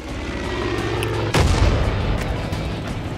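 Gunfire in Far Cry 5, a continuous din of shots and booms with a sharp, louder blast partway through, sustained and dense throughout.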